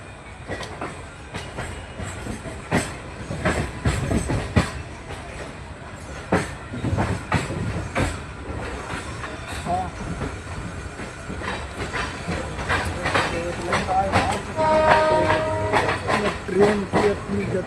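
Moving passenger train near Patna, Bihar, rumbling steadily with rhythmic clickety-clack from the wheels, a continuous hiss and a brief high wheel squeal near the end, loud and close throughout.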